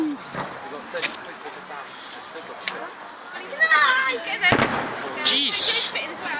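Fireworks going off at a 2013 display, with repeated bursts and pops, crackling sparkles and louder bangs building toward the end, heard amid crowd noise and people talking.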